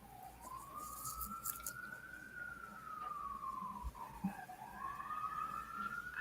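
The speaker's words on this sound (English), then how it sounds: "sorry about the sirens" An emergency vehicle siren in New York City wails at a distance, sweeping slowly up and down in pitch over faint street noise.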